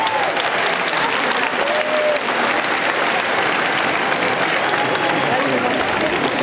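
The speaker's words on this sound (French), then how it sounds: "vous allez vous applaudir" Dense, continuous applause from a concert audience, steady and full throughout with no breaks, as the whole crowd claps together.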